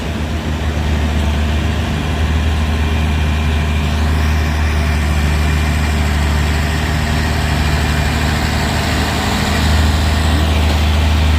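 A heavy truck trailer's diesel engine labors up the Bukit Kodok incline, a steady, loud, low rumble that holds for the whole stretch with no talking over it.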